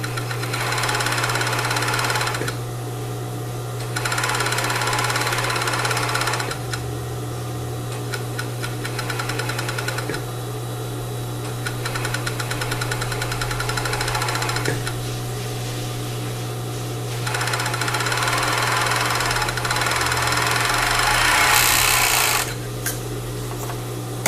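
A sewing machine stitches a French seam on a crepe bubble ruffled blouse, running in several steady whirring bursts of a few seconds each, separated by short pauses, close and alone.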